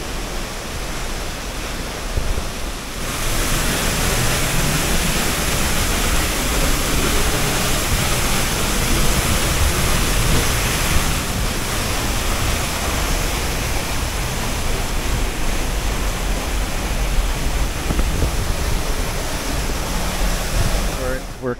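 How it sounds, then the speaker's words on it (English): A waterfall in Oregon rushes with a loud, steady roar of falling water close by, continuous and unbroken throughout. "It's just that rush of waterfall power."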